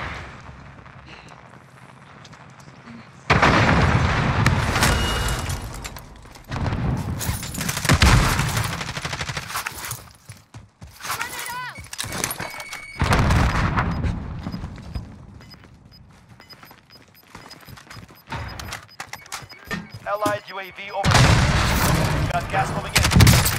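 Rapid gunfire bursts from the Warzone battle royale video game, including FAL rifle fire, crack in loud repeated volleys separated by brief lulls, with close and distant shots overlapping.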